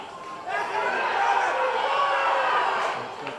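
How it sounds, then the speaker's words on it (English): Football crowd at a Men's Premier League Waratah vs Southern Districts match, a broad roar swelling and holding, then easing slightly, with some talk mixed in. "Crowd are getting into this one."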